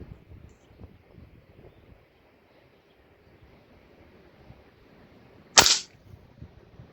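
One loud, abrupt report from a break barrel airgun with a combo scope, near the end of a quiet outdoor stretch with faint wind rumble and no talking.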